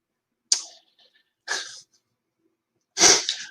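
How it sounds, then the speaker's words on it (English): Three sharp bursts close up: two short sneezy exhalations followed by a louder, fuller sneeze, separated by brief silences. "And I'm going to sneeze. It's going to happen."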